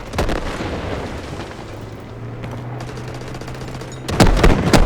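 Explosions and bursts of automatic gunfire in the mobile shooter Delta Force Mobile, loud and continuous, with a heavy blast near the end and no talking.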